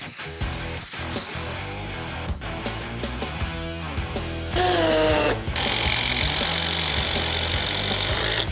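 A power tool drives lag bolts into a wooden anvil stand, whirring and ratcheting in bursts with mechanical clicks, growing louder and more sustained toward the end.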